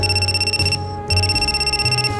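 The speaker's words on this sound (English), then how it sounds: "Just then, someone else's cell phone starts ringing shrilly." A cell phone rings shrilly in the Death Mark horror game, a loud piercing electronic trill repeating in pulses with a brief gap, close and alone.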